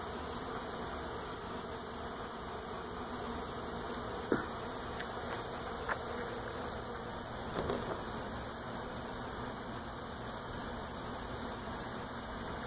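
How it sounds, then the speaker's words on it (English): Steady buzzing of many bees flying around a swarm trap, a continuous droning hum with a few faint clicks and bumps, no voices. "there's some bees coming and going."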